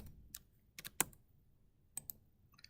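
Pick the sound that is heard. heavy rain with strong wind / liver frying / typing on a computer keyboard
typing on a computer keyboard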